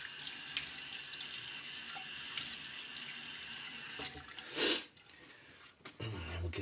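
A bathroom tap runs into a sink for wetting the face before a shave, a steady close hiss of flowing water that ends with a brief splash near the close.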